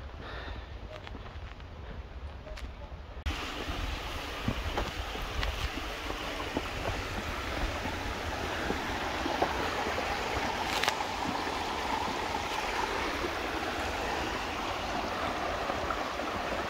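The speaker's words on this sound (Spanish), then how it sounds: "Estoy escuchando el rubor del agua." A small stream trickles and rushes steadily along a shaded mountain trail in Andorra, a continuous broadband wash of water that grows slightly fuller after the first few seconds, with no talking.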